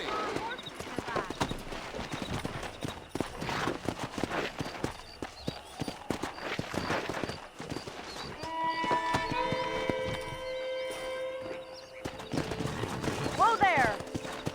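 Horses in the Red Dead Redemption video game, near a ranch: steady hoof clip-clops with a whinny, under background game music and spoken character dialogue.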